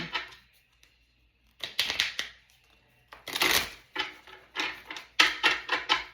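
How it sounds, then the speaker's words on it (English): Reader roulette cards being shuffled by hand at close range, several short rustling riffles and flicks in quick bursts separated by brief pauses. "Okay, we're going to shuffle again."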